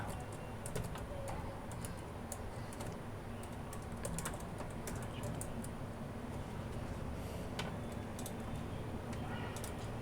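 A computer keyboard clicks steadily in fast, uneven bursts of keystrokes over a constant background hum, close and quiet, while someone fills in a student records form.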